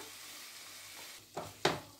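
Fried egg being stirred together with vegetables and oregano in a pan, a faint sizzle under two short scraping stirs near the end.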